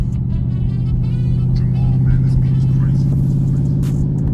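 A 2021 Dodge Durango R/T engine drones steadily at close range, a low continuous rumble from inside the SUV with a slight swell mid-clip as it is driven and upshifted with paddle shifters.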